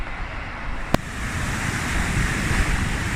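Sea waves wash and roll steadily close by, mixed with gusty wind rumble on the microphone and one sharp click near the start.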